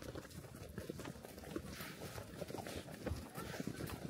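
Horse hooves walking along a trail near Kaindy Lake in Kazakhstan, dull irregular clops, fairly faint, under wind and people talking nearby.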